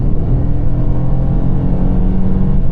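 Engine of a car with a 1.5-litre motor being pushed hard under acceleration, a steady loud low rumble holding for a few seconds with no speech over it.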